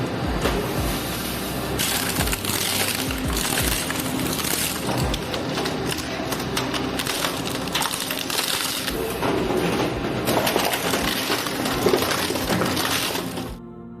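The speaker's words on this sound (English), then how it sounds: "Shredding of laptops, keyboards, and CPU units." An industrial material-recycling shredder tears through laptops, keyboards and CPU units, producing a loud, continuous crunching and cracking of plastic and metal with sharp breaking snaps throughout, close and unbroken for the full length.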